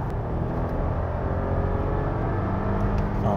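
Audi Q8 SUV accelerating under a pressed throttle, a steady low engine drone with road rumble inside the cabin, continuous and fairly loud without clear changes, no talking.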